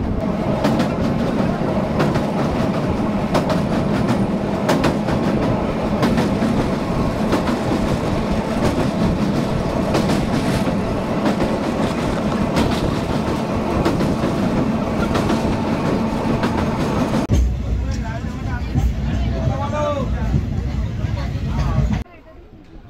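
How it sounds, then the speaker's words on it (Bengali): A passenger train on the line from Howrah toward Digha runs steadily on the rails with a loud rumble and rhythmic clickety-clack, continuing for over twenty seconds and changing near the end, with a voice speaking over it. "সাঁতরাগাছি স্টেশন থেকে 60 কিলোমিটার পথ পাড়ি দিয়ে আমাদের ট্রেন এসে গেছে মেচেদা স্টেশনে।"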